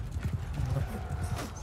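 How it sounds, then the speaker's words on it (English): Cavalry horses charge across a battlefield in the strategy game Mount & Blade II: Bannerlord, a dense, rumbling rush of hoofbeats throughout, with voices faint in the background. "So in come our cavalry. The third division charges."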